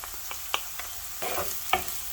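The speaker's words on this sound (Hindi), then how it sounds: "हमने इसको बस हल्का सा ही बस सोते करना है, इसको कोई कलर नहीं देना है" Chopped onions and finely cut green chilies sauté lightly in a pan with a soft, steady sizzle, punctuated by sharp clinks and scrapes of a spoon stirring against the metal.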